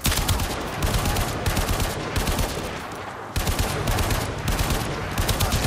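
Sustained, dense automatic gunfire from an enemy squad in the Warframe video game, loud and continuous with rapid overlapping bursts and a brief dip midway before resuming.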